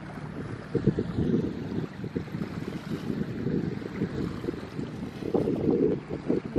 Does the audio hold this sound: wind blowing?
yes